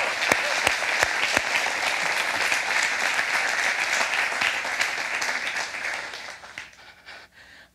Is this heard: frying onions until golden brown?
no